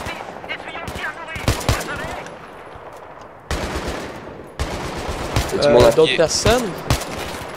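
Battlefield 3 video game gunfire arrives in bursts of automatic fire with pauses between them, while players talk in French over the shooting.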